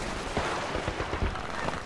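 Rapid bursts of automatic gunfire from a combat scene in the video game Homefront, a steady stream of close, overlapping shots with no clear gaps.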